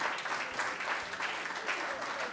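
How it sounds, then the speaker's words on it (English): A room of guests at an 80th birthday party gives a round of applause, with continuous, moderately loud clapping that stays fairly even throughout without clear speech. "please just appreciate them by giving them a round of applause"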